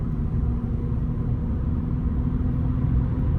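A Ford F-150 pickup towing a gooseneck trailer accelerates gradually, its engine a steady, heavy low rumble with constant road noise and no change in pace.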